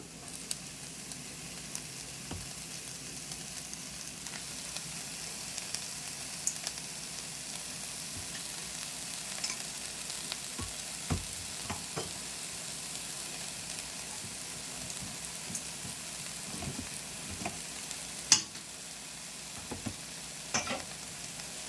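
Washed, chopped amaranth leaves cook in a pan over a medium flame, giving a soft, continuous low sizzle with scattered faint clinks and scrapes of stirring across a long stretch, no talking.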